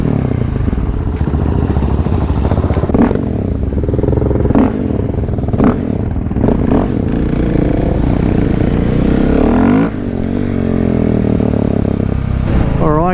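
Motorcycles, including a supermoto, ride together near Mt Druitt with loud, continuous engine drone close by. Revs rise and fall and the ride carries some clattering and wind noise, with no clear talk.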